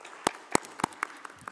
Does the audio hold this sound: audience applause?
yes